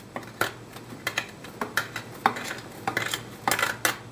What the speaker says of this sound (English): go around and cut off any little bits that are left hanging around